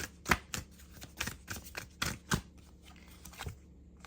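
A deck of spirit animal oracle cards is shuffled by hand, giving crisp irregular riffling snaps and slaps up close, several sharp bursts spread over a few seconds.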